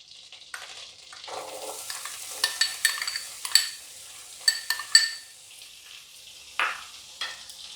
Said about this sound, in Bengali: মাখনটা একটু ভালো করে গলে গেলে আমি প্রথমে এর মধ্যে 1 কাপ পরিমাণ হলুদ বেল পেপার কুচি এর মধ্যে দিয়ে দিচ্ছি